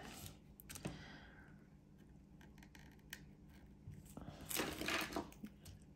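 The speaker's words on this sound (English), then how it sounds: "Let's cut this sticker." Scissors snip through a sticker in a few quiet, crisp cuts, with faint paper rustling and handling sounds in a small indoor space.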